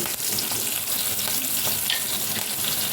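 Green chillies, small and very hot homegrown ones, frying in a pan for a Rajasthani onion sabzi: a steady, close sizzle with crackling spits and occasional stirring scrapes, no voices.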